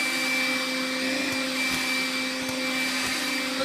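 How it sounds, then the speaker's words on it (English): A vacuum cleaner drones steadily on carpet, sucking up spilled kinetic sand, its motor whine constant and close with faint gritty ticks of sand through the nozzle. "vacuuming up the excess is definitely probably the easiest method of cleaning"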